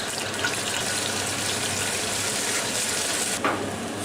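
Tomato paste fries in hot oil for a vegetable clay-pot stew, giving a steady close hiss of sizzling with a brief louder burst near the end.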